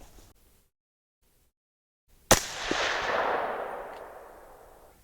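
A single suppressed gunshot from a rifle fitted with a SilencerCo Omega 36M silencer cracks sharply after a brief silence, then a long rumbling echo trails off outdoors.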